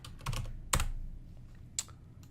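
Typing a command at a computer keyboard in a Windows command prompt: a few scattered keystrokes and a couple of sharper key clicks, close up and quiet with no voice.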